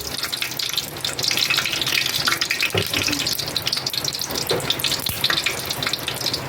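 Ghee and oil sizzle in a pan ready for vermicelli, a loud continuous hiss and crackle with brief clatter from the pan partway through.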